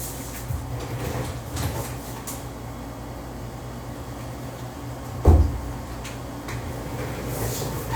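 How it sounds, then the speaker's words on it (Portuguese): A door is opened to answer knocking, with one short solid thump of the door partway through, set against a steady hum of room noise and faint rustling. "Deixa eu abrir uma porta aqui que tem alguém batendo na porta."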